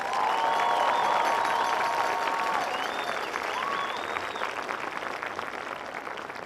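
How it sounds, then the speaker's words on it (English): A crowd applauds loudly with sustained clapping and some whoops, the applause gradually tapering off. "How about another huge round of applause for our future knights?"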